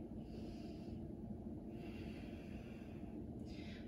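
Steady, close breathing during a core exercise, slow nasal inhales and exhales with a faint hiss, quiet and unbroken by speech.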